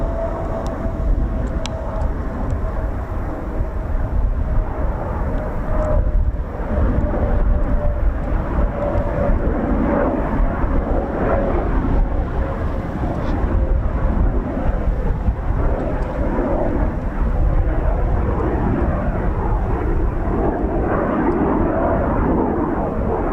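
A Eurofighter Typhoon FGR4 jet landing at RAF Coningsby in the evening produces a loud, sustained engine roar with a steady whine, rumbling continuously throughout.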